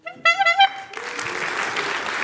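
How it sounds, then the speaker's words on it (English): At a Lloyd's Register Foundation student competition conference, a short voiced snippet gives way to the audience bursting into a broad, sustained round of applause that swells and holds steady. "I want you to burst into a round of applause"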